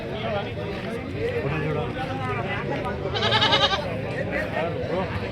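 Young goat at a livestock market in Vikarabad bleats in short wavering cries, one louder call standing out midway, amid busy market murmur and people talking nearby.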